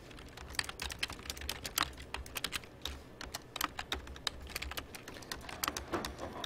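Close computer keyboard typing: an irregular run of crisp key clicks with the odd heavier spacebar press, going on steadily for several seconds with no voices.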